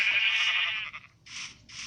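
Sheep in Minecraft Pocket Edition bleats close and clear: one long wavering bleat followed by two shorter ones, with nothing else competing.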